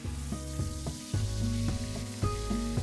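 Spice paste with ginger garlic paste fries in hot oil in a pan for a chicken dish. A loud, continuous close sizzle is broken by rhythmic stirring strokes and pan scrapes, with no voices.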